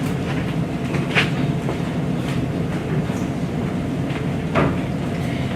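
Train rolling on rails with a steady, loud rumble from inside a carriage, marked by occasional rattles and clicks over the track.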